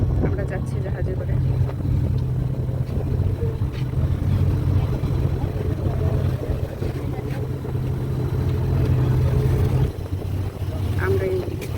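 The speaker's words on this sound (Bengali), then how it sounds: "আমরা যাচ্ছি জাহাজে করে।" A motor boat carries passengers to Koh Larn island off Pattaya, Thailand, and its engine gives a steady, loud drone throughout, mixed with wind and water noise. People talk faintly over the engine.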